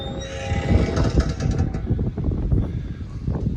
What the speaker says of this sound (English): This is a Norfolk Southern train on the CSX line.